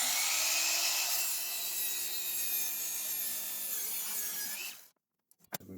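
A hand saw cuts through wood for a home-built organizer, a continuous rasping stroke close up for several seconds before it stops abruptly, followed by a few small knocks.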